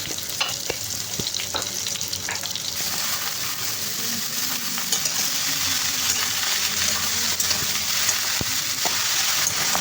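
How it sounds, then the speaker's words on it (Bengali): Bottle gourd sautés in hot oil with mustard seeds and bay leaves, giving a continuous close sizzle broken by scattered pops, ticks and stirring scrapes over nearly ten seconds. "ওই তেলের মধ্যে দিয়ে দিচ্ছি হাফ চামচ মতো সর্ষে ফোড়ন দিয়ে দিলাম দুটো তেজপাতা তারপরে লাউগুলো দিয়ে আমি কষাবো"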